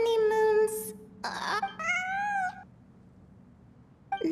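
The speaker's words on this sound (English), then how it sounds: "It really is a cat." A cat meows repeatedly in a video game, giving several clear, close, drawn-out calls with short pauses between them, then a brief final cry.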